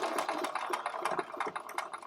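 A sewing machine stitches fabric along a seam, running steadily with a fast, even mechanical clatter, close and alone for about two seconds.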